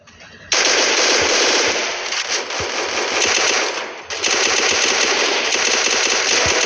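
Rapid automatic AK rifle fire in the mobile shooter game Free Fire, a loud, sustained stream of shots that breaks briefly and then resumes.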